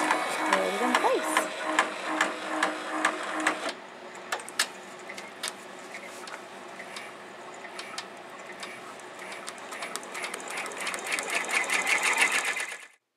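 An embroidery machine runs a tack-down stitch on a snowman stocking, giving a fast, continuous mechanical whirring and rapid ticking that keeps on throughout, with a short shift in tone partway through.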